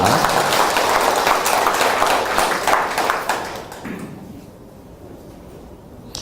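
Applause from the audience at a business opportunity presentation, a dense wash of many hands clapping that stays steady for about four seconds and then tails off into quiet room tone.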